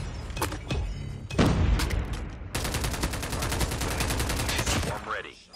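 Light machine gun fire in Call of Duty, a few loud separate shots followed by a long, steady, rapid burst of sustained automatic fire, ending with a brief whoosh.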